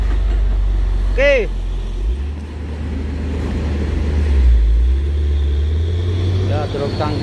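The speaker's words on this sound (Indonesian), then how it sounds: "truk tangkinya sudah naik dari jalur kanan bosku" A heavy tanker truck climbs from the right lane on a road where palm oil has spilled, giving a loud, close low rumble that deepens and then holds steady, with voices briefly over it.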